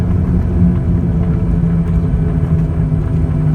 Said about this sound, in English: You can hear them steel brakes now